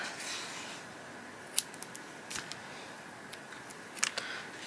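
Scissors cutting paper for a handmade vintage collage card, heard as a couple of quick, crisp snips against a quiet room background.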